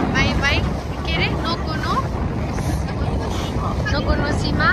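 Wind and water rush around a ship moving through the sea, a steady broadband roar with splashing, while people talk over it throughout.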